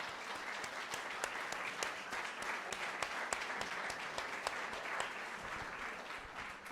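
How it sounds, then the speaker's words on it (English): A crowd of guests applauds collectors standing at a museum director's talk, steady dense clapping at moderate distance that holds evenly for several seconds with no voices over it. "Would you folks just stand up so everyone can cheer for you?"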